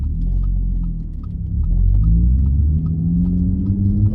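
A supercharged 2010 Audi B8 S4 with a six-speed manual and a Stage 1 tune rumbles from inside the cabin on a test drive, a low steady engine drone that swells slightly as it pulls.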